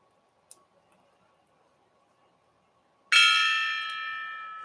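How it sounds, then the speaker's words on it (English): A gong is struck once indoors, a sudden bright metallic crash that rings out with a shimmering, slowly fading sustain after near silence with a faint tap before. "And I gotta have my gong"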